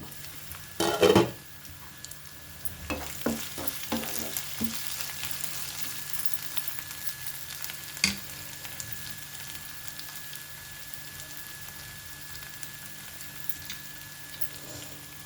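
Tomato curry sizzles and simmers in a pan, a soft steady crackle broken by a few sharp clanks and stirring scrapes near the start, then settling into a quiet bubbling hiss.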